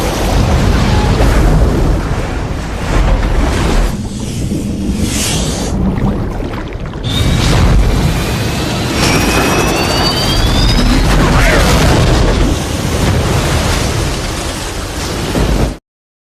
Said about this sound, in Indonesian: pesawat yang ditumpangi Chuck kehilangan tenaga dan menghantam laut, lalu terbakar dan tenggelam